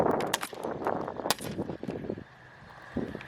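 Sharp, loud shots from a paintball gun, several in quick succession then a pause and one more near the end, with a faint voice in the background.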